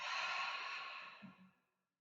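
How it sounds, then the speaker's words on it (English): A person takes a deep exhale through the open mouth during a yoga breathing exercise, a soft, breathy sigh close to the listener that fades out over about a second and a half. "take a full breath in through your nose, and then open your mouth and exhale all that air out"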